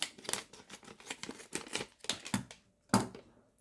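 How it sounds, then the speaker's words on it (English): Crisp snipping of scissors cutting open a plastic snack package, a run of quick cuts followed by a couple of sharper snips, close and clear. "So, take out my trusty scissors."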